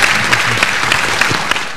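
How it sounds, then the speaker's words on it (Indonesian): A studio audience on a health talk show claps in a brief burst of dense, steady applause, close and fairly loud with no talk over it. "tepuk tangan buat Dr. Hendra dan Irma Darmawangsa."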